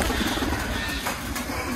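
Domestic pigeons coo in low, soft, repeated throaty calls close by, set against a dense, hissy background.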